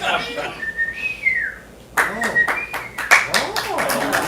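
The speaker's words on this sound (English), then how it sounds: "I have a special whistle for Oh. it." A person whistles a special call meant to summon house cats: a sustained rising-falling tone, then a string of short chirpy whistles mixed with sharp claps or taps, indoors, with people talking around it.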